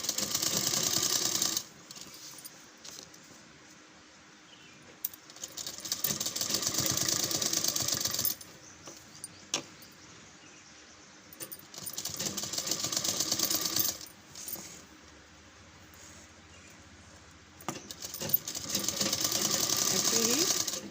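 Electric sewing machine stitching a fabric strip around the neckline of a long suit, running in several loud bursts of rapid whirring separated by short pauses.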